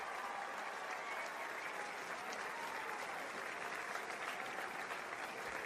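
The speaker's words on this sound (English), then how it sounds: "How about we give them a great round of applause?" A large crowd applauds in a stadium, a dense, steady wash of clapping that holds at an even level throughout with no break.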